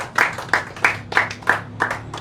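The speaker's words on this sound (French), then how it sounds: "applaudissez alors pour vous" A small audience at the end of a French-language training session claps, giving about seven distinct, fairly loud claps in an uneven rhythm with short pauses between them.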